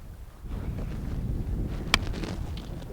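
Wind rushes across the microphone while fly fishing with a 4-weight rod on Henry's Fork, a steady low buffeting roar with one sharp click partway through.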